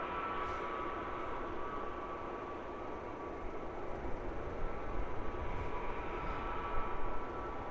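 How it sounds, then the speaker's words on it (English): An EasyJet Airbus A320-200, thirteen years old, at London Luton Airport, holding a continuous broad jet engine roar at moderate distance that swells slightly toward the end, with no voices. "This one is flight 2623, it's an A320-200."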